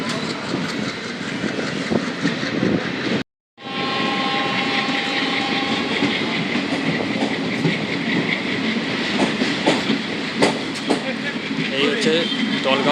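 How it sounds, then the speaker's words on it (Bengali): Passenger train 15767 runs at night between Siliguri and Alipurduar on the stretch out of Dalgaon station, a loud, continuous rumble with rhythmic clicking of wheels over rail joints, briefly cut off once, then steady again. "ট্রেন ছেড়ে দিয়েছে এখন দলগাঁও স্টেশন থেকে"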